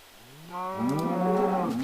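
A Minecraft cow moos once in a drawn-out, wavering low call that swells and holds steady, close and clear with no talking over it.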